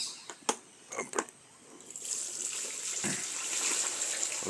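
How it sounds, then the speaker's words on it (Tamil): Water gushes out of a tipped-over container, a rushing pour that builds after a few soft knocks and splashes and then flows steadily for a couple of seconds, fairly faint and with no talking. "அப்படியே கவுத்தி தண்ணி எல்லாம் போகும்"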